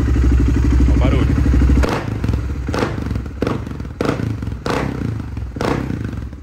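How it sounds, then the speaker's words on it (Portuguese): A BMW G650X Supermoto motorcycle engine holds a steady, loud idle, then revs in a run of sharp, repeated bursts with brief dips between them, close by. "só pegar e acelerar a motoca agora"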